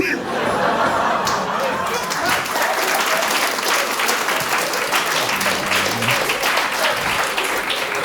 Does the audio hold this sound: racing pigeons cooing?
no